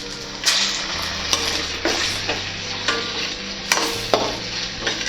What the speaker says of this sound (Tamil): இப்போ எல்லாமே நல்லா வதங்கட்டும்.